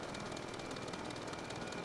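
A propeller plane in Scrap Mechanic flies along with a steady, even drone and a constant airscrew hum, faint and unbroken, with no other sounds over it.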